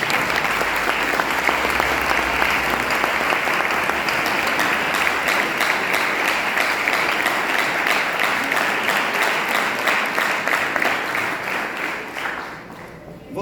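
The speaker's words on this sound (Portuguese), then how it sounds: "Pode se assentar e as tuas palmas bem fortes exaltam o Senhor Jesus" Long, strong applause from a church congregation, dense steady clapping that holds for over ten seconds before tapering off.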